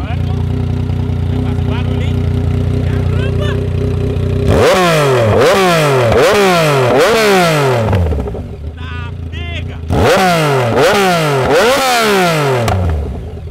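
A Yamaha MT-09 motorcycle fitted with a straight pipe exhaust idles loudly, then fires off two bursts of sharp, repeated revs close by, each blip rising and falling quickly.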